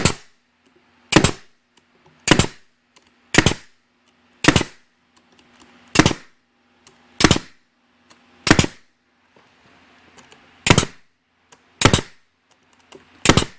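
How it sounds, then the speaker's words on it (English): Sharp nail gun shots drive nails into wooden beehive frames held in an assembly jig, about ten loud, close cracks spaced roughly a second apart with quiet gaps between. "go ahead and get it nailed down"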